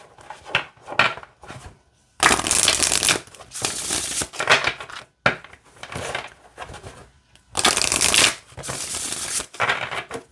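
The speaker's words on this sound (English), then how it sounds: "let me show you how it shuffles" A glossy oracle card deck being shuffled by hand, with several bursts of riffling and sliding card noise that come in uneven runs separated by short pauses, close up and with no talking.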